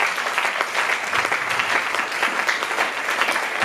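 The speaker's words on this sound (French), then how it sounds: "Est-ce qu'on peut acclamer Jésus?" A church congregation breaks into sustained applause mixed with cheering, a dense, steady wash of clapping that fills the room for several seconds.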